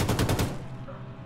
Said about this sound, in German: Der hat uns schon geschossen.